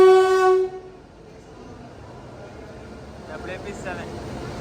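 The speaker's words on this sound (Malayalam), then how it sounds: "Fast express New Delhi railway station platform number 3-ലേക്ക് ഇതാ കടന്നു വരികയാണ്." The Kerala Express, hauled by a WP7 locomotive, arrives at platform 3 of New Delhi railway station. A loud horn blast opens, then a low rumble of the train rolls in under platform noise.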